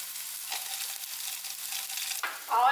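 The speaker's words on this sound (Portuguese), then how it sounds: "Enquanto a cebola tá refogando aqui" Onion sautéing in a pan, a steady close hiss and sizzle with a few stirring scrapes, swelling louder near the end.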